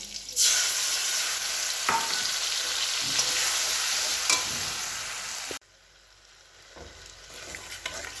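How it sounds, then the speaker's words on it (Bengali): A ground paste of ginger, mustard, cumin and fennel hits hot oil with tomato and green chilli, giving a loud, steady close sizzle with stirring scrapes that drops suddenly to a quieter bubbling near the end. "এবার এই মশলা তেলের মধ্যে মশলাটা দিয়ে দেবো"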